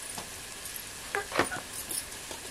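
Sweet potato with onion, green chili, turmeric and salt is stir-fried in a pan, giving a quiet, steady sizzle broken by a few soft scraping stirs up close.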